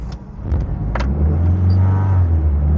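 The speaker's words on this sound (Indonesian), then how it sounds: "Mesinnya masih aman, knalpotnya masih standar, tidak brong-brong ya. RPM juga masih stabil." A used car with a standard exhaust idles at stable revs, giving a close, steady low rumble with a few light clicks early on.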